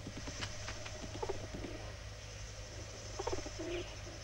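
Feral rock doves coo softly near a dovecote, giving a few low, muffled calls spread over a quiet, steady background hiss with faint chirps.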